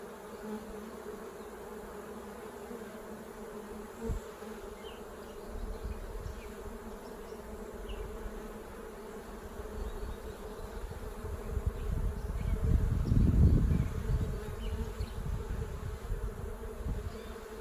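Bees hum steadily at a beehive under inspection, a soft continuous drone close by, with a louder burst of buzzing swelling near the end; no voices.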